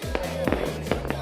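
New Year's Eve fireworks in highland Hoàng Su Phì, Hà Giang, pop in a quick series of sharp bangs, about four bursts in a second over a steady background hum.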